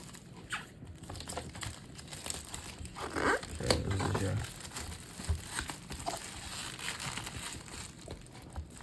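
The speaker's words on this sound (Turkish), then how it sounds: "Hemen jelatinleri sökelim." Plastic wrap crinkling and tearing as it is peeled off a DIERYA DK61 SE keyboard box, with irregular rustles and one louder ripping stretch close by.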